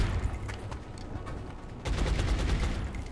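Gunfire in the video game XCOM Long War: a burst of overlapping shotgun blasts with a brief lull, then a second louder volley of crackling shots, with no talking.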